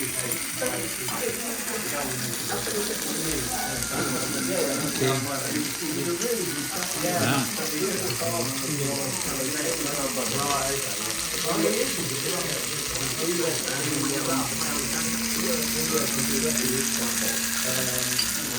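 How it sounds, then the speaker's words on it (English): Steady crackling sizzle of kebabs and tikkas on a hot skillet runs throughout, with people talking over it nearby. "a selection of kebabs and tikkas on a sizzling skillet"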